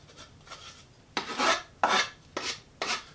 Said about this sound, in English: Just take it and give it a little bit of a rub here and take the little splinters off.